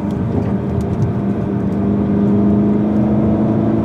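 A 2015 Seat Leon Cupra 280 drives at a relaxed pace on the Nürburgring, its engine a steady close droning hum from inside the cabin that swells slightly as it pulls.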